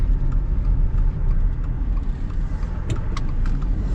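A 2022 Subaru Outback Wilderness accelerates on the road, giving a steady, close engine and tire rumble with road noise throughout and no talk.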